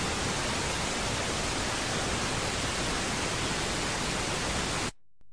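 Broadband test-signal noise for a phase check of the audio channels plays loud and steady, hissing evenly across the spectrum for about five seconds, then cuts off abruptly into near silence.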